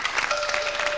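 Audience applauding breakdancers at an event on racism: a brief, loud, dense wash of clapping from many hands, with a faint steady tone running underneath.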